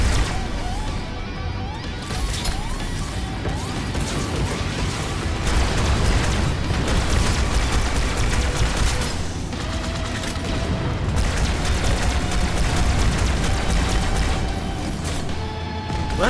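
Dense, continuous game combat in Halo 2: a Scorpion tank's heavy cannon fire mixed with rolling explosions and rapid gunfire, loud and unbroken throughout with no clear pauses.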